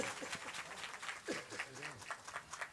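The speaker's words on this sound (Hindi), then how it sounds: "और एक बार हमारे वृंदावन के जो कलाकार हैं इनके लिए भी ताली बजा दीजिए आप लोग" Audience applause for performers from Vrindavan at a devotional stage event, a steady wash of clapping heard from a distance, with voices mixed in.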